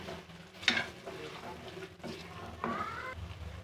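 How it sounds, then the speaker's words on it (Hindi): Ginger garlic paste frying with lightly browned onions in a pan, a soft steady sizzle with stirring scrapes and a sharp utensil clink near the start. "अब इसमें लहसुन अदरक का पेस्ट डालूँगी। इसकी बुनाई करूंगी"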